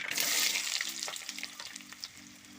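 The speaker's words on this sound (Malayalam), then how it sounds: "ഇതിലേക്ക് നമുക്ക് അരിഞ്ഞു വെച്ചിരിക്കുന്ന ചെറിയ ഉള്ളി ഇട്ട് കൊടുക്കാം." Loud hiss of chopped shallots hitting hot oil in a clay pot, the sizzle surging at first then settling into a steady crackle, with a faint low hum beneath.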